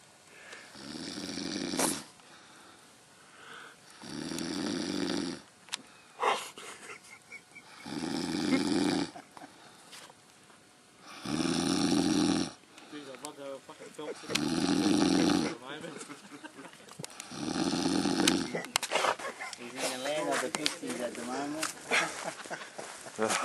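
A worn-out man snores in slow, regular cycles, one loud rasping inhale roughly every three to four seconds, with quieter breathing and some faint movement between snores.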